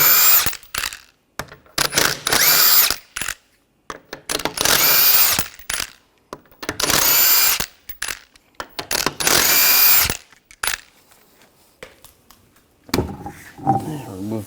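A power tool with a 21mm socket loosens wheel lug nuts on a 2014-2020 Nissan Rogue, loud close whirring bursts of a second or two each, repeated several times with brief pauses, ending in quieter rustling.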